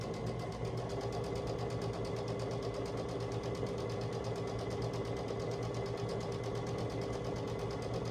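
A sewing machine runs steadily, stitching a quilt seam at a quarter-inch allowance on a scrappy string quilt piece, a close, continuous whirring hum that holds even for about eight seconds with no talking.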